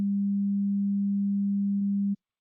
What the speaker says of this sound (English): this is a sine wave, and I'm just going to play it as a sound